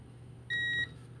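Aneng S1 budget multimeter in continuity mode emits a single short, steady electronic beep lasting about a third of a second over a low background hum.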